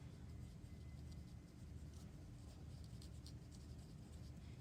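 A pen scratches on paper in a quiet room, a faint, continuous rasp from short strokes without pause while a circumference measurement for a circle skirt is noted down.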